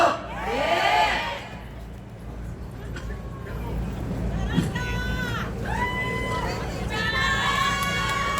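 A large crowd at an outdoor rally shouts a slogan together in several rising bursts of voices, loud and reverberant over constant background noise and amplified speech.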